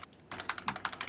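Fingers type on a wireless computer keyboard, a quick run of close, distinct key clicks after a short quiet start, with no voices.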